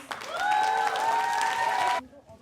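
Applause at a sustainable fashion show, a full burst of clapping with sustained cheering voices riding on top, cutting off abruptly after about two seconds into near quiet.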